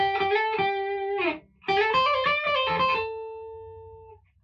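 An electric guitar played through a NUX Horseman overdrive pedal with the gain raised gives distorted chords, some sustained and ringing out, with a short pause between phrases.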